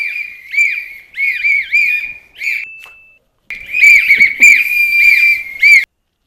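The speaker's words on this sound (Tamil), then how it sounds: "என் போன்ல இருந்து விசில் சவுண்ட் வந்துச்சு." A phone ringtone of loud, close whistle blasts repeating in trilled bursts, pausing for a moment with one held tone, then resuming in another run of rapid warbling whistles before stopping.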